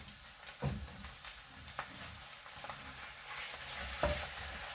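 Meat added to a pan of browning onions frying on the stove, with a steady crackling sizzle and a few louder stirring scrapes and clatters, close and alone.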